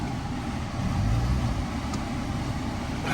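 A 2019 Chevrolet Silverado pickup with bullet holes, inspected at an auction yard, rolls forward in drive with a low steady engine hum and a slight swell midway, heard nearby without speech.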